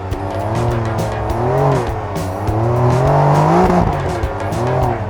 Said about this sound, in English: I'm doing 45 over a sand dune in a 911.